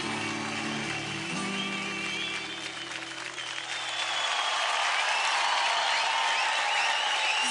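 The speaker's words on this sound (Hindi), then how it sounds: "जोरदार तालियां हो जाए अमित और फैलन के लिए" Studio audience applauding dancers Amit and Falon after their performance on a televised dance competition, dense clapping that swells louder as the music fades out underneath.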